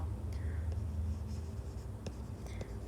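Faint, steady writing strokes during a math area exercise, with soft scratching scattered over a low background hum and a few brief clicks, and no clear talk.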